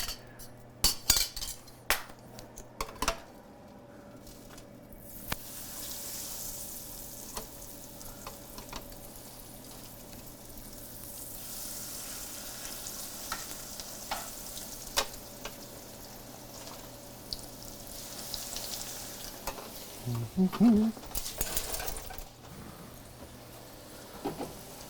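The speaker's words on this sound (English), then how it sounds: "so I'm going to give these a fry." Food frying gently in a pan on the stove, a soft steady sizzle with occasional clinks of utensils and a brief stir near the end, close and quiet without speech.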